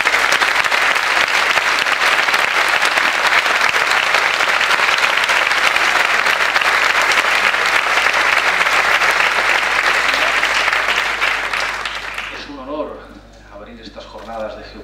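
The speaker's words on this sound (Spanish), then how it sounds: "Os pediría un aplauso para esas trabajadoras." Sustained applause from the audience at a geopolitics conference opening rolls on for about twelve seconds in a thick, steady clatter, then dies away as a voice begins speaking.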